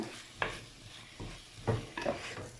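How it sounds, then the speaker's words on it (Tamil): Potato pieces added to sautéed onion and tomato, stirred in a pan: faint sizzling broken by a few spoon scrapes and clatters, quiet and close. "வெங்காயம் தக்காளி நல்லா வதங்கிடுச்சு. இந்த நேரத்தில் நாம் உருளைக்கிழங்கு சேர்த்துக்கலாம்."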